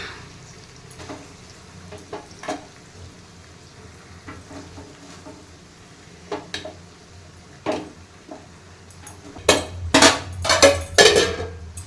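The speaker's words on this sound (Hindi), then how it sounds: "तो अब इससे खाए मसाले में चावल मिलाएंगे" Rice is mixed into masala in a pot, with repeated scraping and clanking of a spoon against the metal pot that grow louder and denser toward the end, close with no talk.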